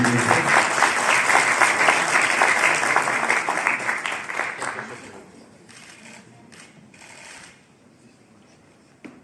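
Audience applause for a government minister at a product summit and award ceremony, dense clapping for about five seconds that thins into scattered claps and fades, followed by a few isolated taps and a sharp knock at the end.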